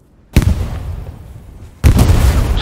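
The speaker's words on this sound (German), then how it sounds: "Lauter Sachen explodieren." Two loud explosions at a staged infantry photo shoot, each a sharp heavy boom followed by rumbling debris noise, the second arriving about a second and a half after the first, with no talk.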